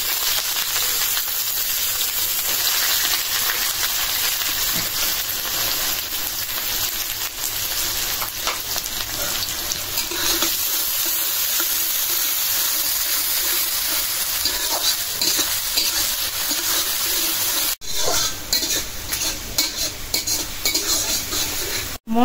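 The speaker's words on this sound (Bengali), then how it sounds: "মশলা যে এলাচ, দারচিনি, পেঁয়াজ সবকিছু একদম বেরেস্তার মতো করে ভাইজা নিলাম।" Onions, cardamom and cinnamon fry in a pan with a steady, continuous sizzle and hiss, occasional stirring scrapes and light clinks of the pan running underneath.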